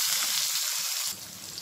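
Dried red chillies, green chillies, onion pieces and curry leaves frying in hot oil, giving a loud continuous hiss that eases slightly toward the end.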